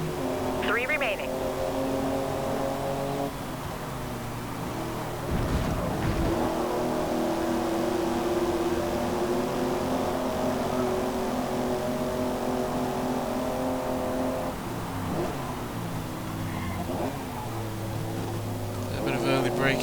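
Racing car engines in Forza Motorsport, including a Holden HDT Commodore, drone and shift pitch steadily at close range while the cars brake into a corner, with talk running over the sound.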